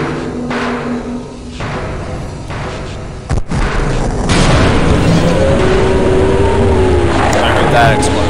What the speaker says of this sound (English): I heard the explosion.